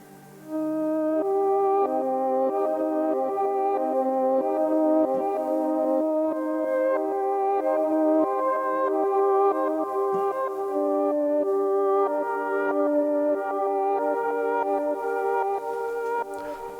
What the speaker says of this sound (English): a particular setting called reverse grand piano